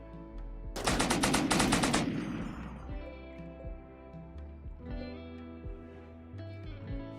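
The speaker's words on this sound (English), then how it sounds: "You're gonna have to shoot that thing with your bullets." Rapid burst of automatic gunfire shooting an animal in the video game RimWorld, a loud rattling volley of about a second followed by clinking and faint game sounds.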